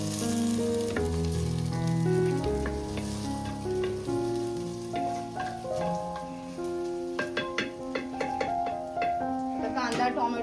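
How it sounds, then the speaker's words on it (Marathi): Tomato added to onions frying in a pan and stirred, a steady sizzle under someone speaking Marathi throughout, with scraping and clinking of the spoon against the pan toward the end. "हा आता कांद्यावर टोमॅटो टाकू आणि आता परत एकदा फिरवून घेऊ."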